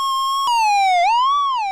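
A Supercritical Synthesizers Neutron Flux filter self-oscillates in its sour mode, producing a loud, siren-like whistling tone with rich overtones that dips, wobbles and swoops in pitch over under two seconds, with no other sounds.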